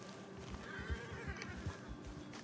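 A horse in Red Dead Redemption 2 gives a fairly faint whinny, with a few soft hoof clops and low rumbles around it.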